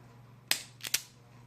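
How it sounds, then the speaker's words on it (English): An automatic wire stripper grips and strips a wire for soldering, giving one sharp snap followed by a quick double click close by in a quiet room. "Anyway, you gotta strip your wires."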